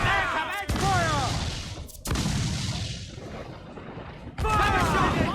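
Ship cannons firing in Assassin's Creed Black Flag, heavy booms at intervals in a naval battle, loud and close, with voiced crew shouts heard between the blasts.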